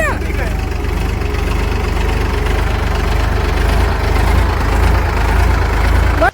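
A parked tractor's engine idles close by with a steady, heavy, knocking throb, and voices talk faintly over it.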